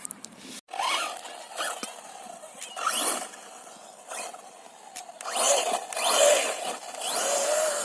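A Team Magic E5 electric RC car on wet grass, its motor whining and rising in short bursts as the wheels spin, with scraping surges up close and no talking.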